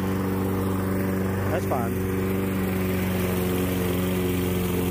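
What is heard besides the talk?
lawn mower cutting a small yard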